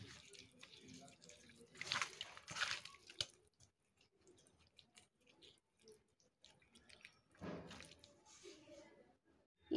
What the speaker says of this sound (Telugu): ఇవన్నీ కూడా ఇలా మిక్స్ చేసుకొని ఒక్కొక్క ముక్కకి మొత్తం కూడా ఇలా అప్లై చేసుకోవాలండి